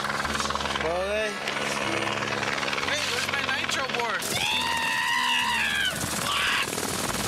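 Helicopter flying overhead during an aerial filming shot, a steady rotor drone running throughout beneath louder voices and music.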